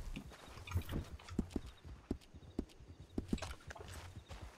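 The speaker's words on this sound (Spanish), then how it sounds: "Y estoy oyendo a alguien correr. Caballo." Horse hooves clip-clopping in the video game RedM, a rhythmic series of moderately loud thuds at a steady gait, with faint background ambience.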